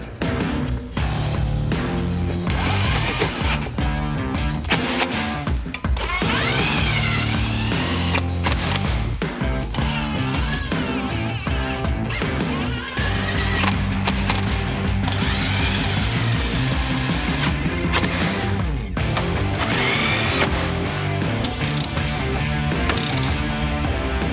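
Mechanical clicking and ratcheting at close range during work on bracket bolts of a 2012 Subaru Forester's air-conditioning system, running steadily through the whole stretch amid other tool and workshop noise, with no talk.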